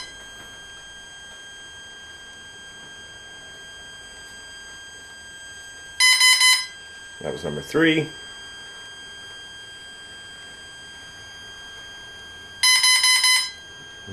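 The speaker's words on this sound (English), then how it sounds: "Now it's into the main menu, giving the beeps for the each menu." Electronic speed controller in programming mode for a StrykerQ model aircraft sounds two short bursts of high rapid beeps, with a speaking voice between them.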